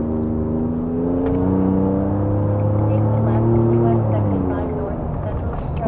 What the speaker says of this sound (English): Truck is coming.